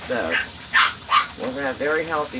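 Puppies yip and bark intermittently in the background of a camper kitchen as someone talks over them, a few short sharp barks mixed between her words.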